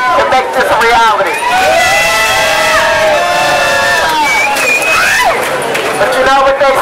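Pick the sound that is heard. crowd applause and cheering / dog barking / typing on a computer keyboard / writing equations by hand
crowd applause and cheering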